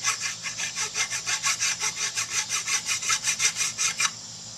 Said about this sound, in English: I'll just use a file, and I'll just file that little edge off of there.